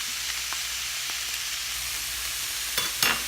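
Ground beef with onions and garlic sizzles steadily in a skillet for lasagna, an even close hiss with a couple of faint scrapes and a louder stir near the end.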